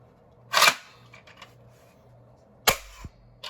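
Third prototype of a homemade breech-loading Breacher Nerf shotgun firing twice: two sharp, close pops about two seconds apart, each with a short mechanical rattle, over faint background hum.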